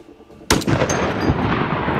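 Bastion's gun in the video game Overwatch 2 fires a sudden loud blast followed by a dense, sustained barrage of booming shots with a long rumbling tail.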